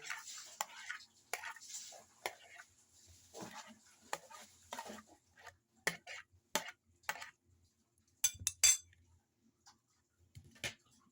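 Baked eggplant and tuna stirred together in a bowl, a faint close scraping and clinking of a utensil against the bowl, intermittent and quiet, with no talking.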